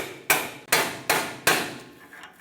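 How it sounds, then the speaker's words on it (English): Four sharp metallic hammer strikes on a pry bar at a steady pace, each ringing briefly, close and loud with no talking, while replacing an outer tie rod on a Ford E-350 Super Duty. "I'm going to put a pry bar, tap it in with a hammer."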